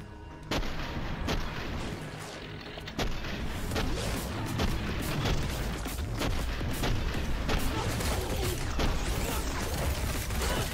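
Repeated booming blasts from a rocket-firing robot in the video game SPRAWL, sharp impacts recurring every second or so over a dense, loud rumble of explosions and machinery, with no voices.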